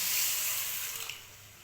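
Water pours into a wok for sugar syrup as part of making besan laddu, a steady close hiss and splash that slowly fades over a couple of seconds.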